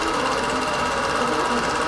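A computerized quilting machine stitches out a design in a dense, continuous rapid chatter, loud and close throughout.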